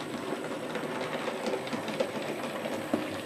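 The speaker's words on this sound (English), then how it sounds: "at least I can run me bloody trains" A model train runs along its track with a soft, continuous rumble and faint rhythmic clicks, quiet and steady with no talking.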